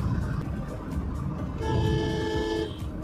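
A loud, sustained vehicle horn blast sounds over steady road and engine rumble on a highway at about 80 km/h, lasting about a second before cutting off.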